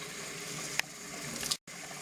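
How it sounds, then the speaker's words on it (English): Tap water runs steadily into a pan holding two cups of dry beans, a continuous close filling hiss with a short break near the end. "let's just put in 6 cups of water"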